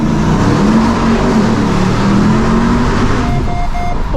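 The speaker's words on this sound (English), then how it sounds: "I can buy a Hellcat powered 700 horsepower V8 supercharged truck, and I want to make it even louder" Supercharged Hellcat-powered 700-horsepower V8 in a Ram TRX pickup truck revving loudly and close, a steady deep engine roar that rises and holds before easing near the end.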